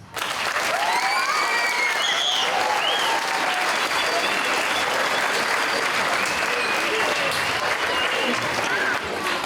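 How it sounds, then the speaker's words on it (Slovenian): An audience at a school Christmas and New Year concert in Kranjska Gora applauds, dense sustained clapping filling the hall for about nine seconds, with a few whoops and cheers rising above it. "En aplavz za njih."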